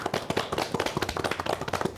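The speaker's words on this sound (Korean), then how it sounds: "오늘 정말 멋진 질문에 멋진 답변까지 해주신 선생님께 다시 한번 박수" A small group claps for a teacher at the close of a youth debate show, a brief dense patter of handclaps heard close, with nobody speaking.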